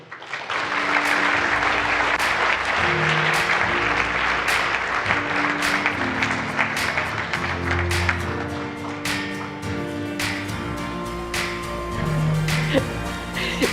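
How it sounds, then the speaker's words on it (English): An audience at a startup competition grand final applauds award winners, sustained loud clapping for the whole stretch with a few sharp claps standing out and an announcer's voice speaking over it. "Round of applause, please, for Self AI."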